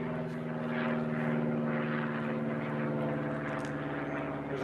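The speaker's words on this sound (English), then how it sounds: "There's a plane going overhead." Propeller airplane passing overhead in a suburban area, a steady droning engine hum with strong low harmonics that swells slightly and holds throughout, fairly loud and alone.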